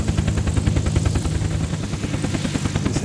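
A helicopter in the video game Unturned flies with a steady, loud rotor chop pulsing in a fast even rhythm and a constant engine drone, close and alone.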